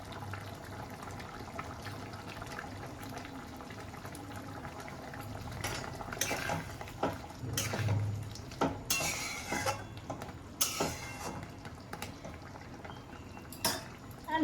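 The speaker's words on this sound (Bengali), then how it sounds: "এবারে আমি ক্রিম দিচ্ছি।" A prawn malai curry simmers in a pot with a soft, steady bubbling as cream is added. Spoon scrapes and metal clinks against the pan come in several short bursts toward the end.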